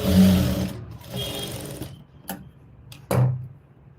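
A sewing machine stitches a blouse in bursts, reversing and restitching for a neat finish; a steady run gives way to short gaps and brief renewed stitching, near and moderately loud.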